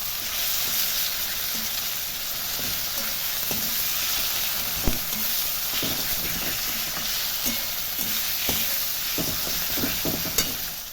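Spice masala with ground banana flower paste and a pinch of sugar sizzles and fries steadily in a pan, a close, continuous hiss broken by occasional scraping stirs.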